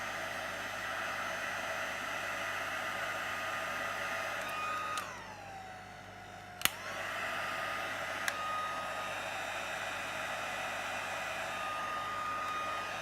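A heat gun melting embossing powder gives a steady close airy whine with a high whistle, briefly dropping away before switching back on with a click and resuming.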